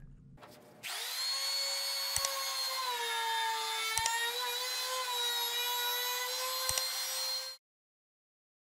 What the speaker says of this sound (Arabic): هنحفر العمق بالراوتر عشان لما راس المسمار دي تدخل تلاقي مكان تمشي فيه